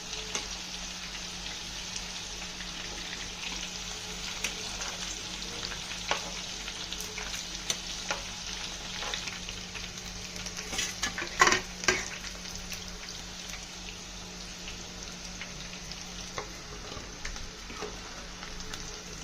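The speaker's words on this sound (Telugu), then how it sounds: "సిమ్లో పెట్టి దోరగా వచ్చే వరకు వేయించుకుంటే చాలా చాలా బాగుంటుంది." Chicken pakodi fries in oil over low heat with a steady, soft, continuous sizzle, joined by faint occasional pops and stirring clicks close by.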